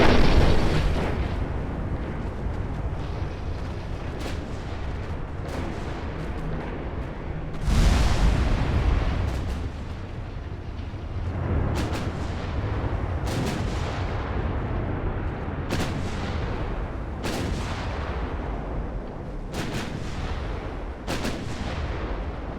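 Heavy naval gunfire from warships in the game Ultimate Admiral: Dreadnoughts, booming salvos repeating every second or two over a continuous low battle rumble, with one especially loud blast near the middle.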